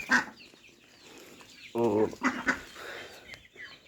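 Chickens and a rooster in a village yard, with scattered clucks and a short squawking call close by, while someone speaks quietly in between.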